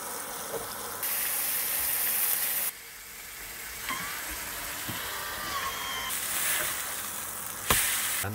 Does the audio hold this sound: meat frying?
yes